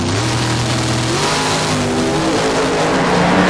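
A huge Corvette and a Mark III Cortina with a traditional American racing V8 roar side by side in a drag race, a loud, sustained engine howl with rising revs close by and no talk.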